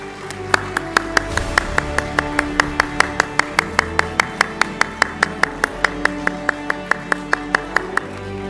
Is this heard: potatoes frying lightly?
no